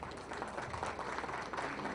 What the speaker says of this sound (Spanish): un aplauso para el maestro también